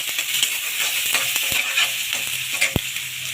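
Onions frying for chicken bhuna khichuri sizzle in a pan under close, brisk stirring, with scraping strokes and a couple of sharp clacks of the spatula against the pan, loud and without talk.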